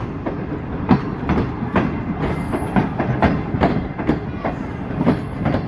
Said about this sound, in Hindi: उसी तरफ हमारी down train FJR special depart कर रही है।